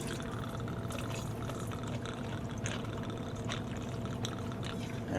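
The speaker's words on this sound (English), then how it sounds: "In the mixing tin with ice, you're going to add 2 ounces of your vodka." Tito's vodka poured into a mixing tin packed with ice, a steady liquid trickle with faint ice clinks, moderately quiet and close with no talking.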